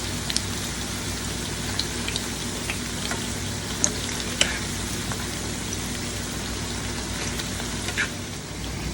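Plantain slices fry in a pan of oil, giving a close, even, rain-like sizzle throughout with scattered faint pops and ticks and no speech.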